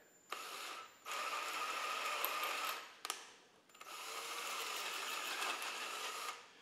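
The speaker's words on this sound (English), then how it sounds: "This I am going to use a drill for, but I'm going to run it in reverse." Power drill running in reverse on a Model T Ford engine during a rebuild, two sustained whirring bursts with a short gap and a click between them, fairly quiet and alone.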